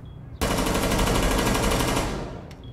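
A single sustained burst of rapid automatic gunfire in a shooter video game, loud and close, lasting about two seconds before trailing off.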